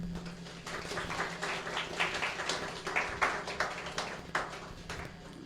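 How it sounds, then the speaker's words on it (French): Audience applause at a health-centre gathering, a dense patter of many hands clapping at moderate distance over a steady low hum, with scattered sharper claps standing out. "Sur vos applaudissements, s'il vous plaît."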